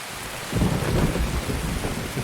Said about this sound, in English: When it's really loud rain like this, it's like so hard to like even think.